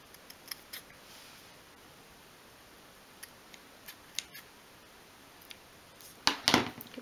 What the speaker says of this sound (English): I want to sort of trim the pink into a more of a rounded shape